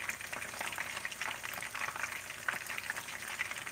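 Fish frying in hot oil for Jamaican brown stew fish, a dense continuous sizzle and crackle with scattered pops, steady and close throughout.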